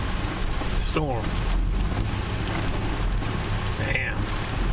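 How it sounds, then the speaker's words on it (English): Rain falls steadily during a storm in Virginia Beach, a dense continuous hiss of drops on surfaces throughout, with brief squeaking noises and a voice speaking faintly beneath. "Raining."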